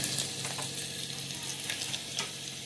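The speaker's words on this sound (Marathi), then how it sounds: "तेल तापलं आहे, यामध्ये घालूया मोहरी, हा खडा मसाला, हा लसूण" Mustard seeds, whole spices and garlic crackle in hot oil for a daal khichdi, a steady hissing sizzle with scattered sharp pops and a few soft stirring scrapes, close and continuous without talk.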